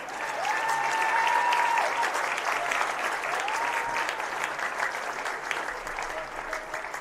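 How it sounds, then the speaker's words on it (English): A large crowd at a girls' high school basketball game applauds steadily, the clapping loud and sustained and then slowly tapering, with faint voices and whistles mixed in. "please help me give these seniors another round of applause for their accomplishments"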